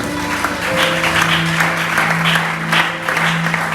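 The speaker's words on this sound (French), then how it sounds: "Quelqu'un acclame très fort le Seigneur." Worshippers in a church applaud and cheer loudly, continuous clapping over a steady organ or keyboard drone and scattered shouting voices.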